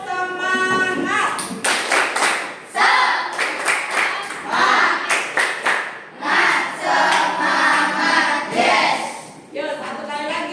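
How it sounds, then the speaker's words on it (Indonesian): A school class does a rhythmic spirit clap, rapid patterns of hand claps and table taps bursting in bunches between chanted calls from the children and teacher, loud and close in a classroom. "tepuk semangat"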